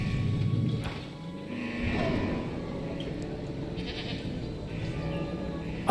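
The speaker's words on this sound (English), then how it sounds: "There's the goat" A goat bleats in the dinosaur park game Jurassic World Evolution 3, a wavering animal call rising over a low rumbling game ambience, moderately close, with no talk over it.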